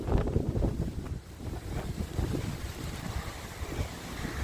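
Strong outdoor wind buffets the microphone in gusty low rumbling bursts, loud and uneven, with a faint hiss of moving air and no speech.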